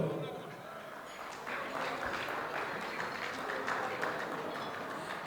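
Applause for Tatev Harutyunyan at an engagement party swells into a dense, steady wash of clapping from a crowd, with a voice speaking over it.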